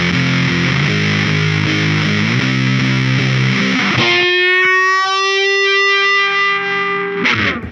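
Overdriven electric guitar plays a chugging riff, then holds a sustained note through a slow, swelling string bend with a phaser sweep, loud and unaccompanied until a closing strum.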